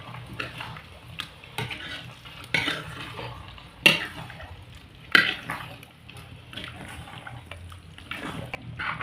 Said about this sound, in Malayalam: ഡ്രസ് ചെയ്യാൻ വെച്ച ചിക്കൻ ഇടുകയാണ് അതിനുശേഷം നമ്മൾ നന്നായി മിക്സ് ചെയ്യാം